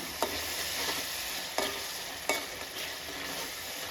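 Food with chopped coriander is mixed in a frying pan over a gentle steady sizzle, three or four distinct stirring scrapes standing out at irregular intervals, with no one talking.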